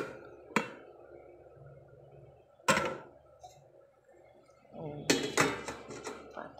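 Metal steamer layer clanks onto a pot in a few sharp, separate knocks and a cluster of rattling clatters at the end, close by in a quiet kitchen.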